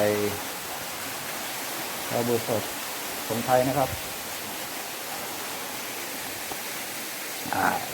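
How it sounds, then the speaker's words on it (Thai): Waterfall inside a cave at a temple in Uthai Thani, Thailand: steady broadband rushing water noise holding constant throughout, with someone talking over it at intervals. "อันนี้อยู่ ใต้น้ำตกในถ้ำ"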